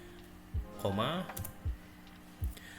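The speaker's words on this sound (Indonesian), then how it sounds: "kita tekan F4 di keyboardnya" Key presses on a computer keyboard during spreadsheet work in Microsoft Excel: a few faint, separate clicks spaced about a second apart, with a voice talking quietly among them.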